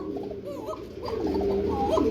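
Several pigeons coo in soft, repeated throaty murmurs close by, a continuous cooing chorus with no talking.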